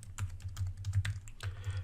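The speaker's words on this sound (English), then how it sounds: "I do have a really small keyboard that I got" Rapid clicking keystrokes on a small computer keyboard while coding, a steady quiet patter of taps over a low hum, close but faint, with no talking.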